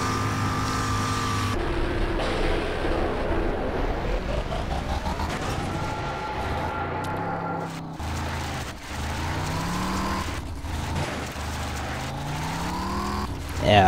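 Car driven in the video game Rage, its engine whining and revving up and down through rising and falling pitch sweeps as it reverses and gets stuck, loud and continuous with game effects.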